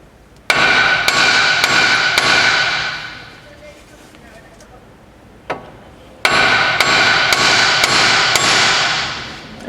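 A hammer strikes a CV axle shaft to loosen it, two bursts of rapid, loud metallic blows with a single lone hit between them, close and ringing.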